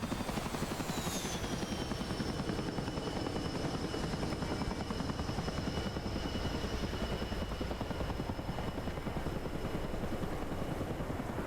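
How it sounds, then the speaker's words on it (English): CH-47 Chinook twin-rotor helicopter, heard as a loud, unbroken rapid rotor chop with a high turbine whine that rises and then levels off, close and constant throughout, with no voices over it. "Here's Devil 1, Romag, in the beautiful CH-47."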